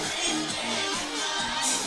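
Hometown crowd at a Rancocas Valley versus Pleasantville high school football game, a dense, steady roar of cheering and shouting filling the stands, loud and continuous with no clear pauses.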